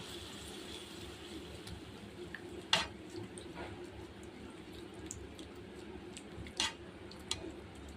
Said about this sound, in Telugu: మొత్తం మిక్స్ చేసుకోవాలి బాగా గిల్ల కొట్టి వేసుకోవాలండి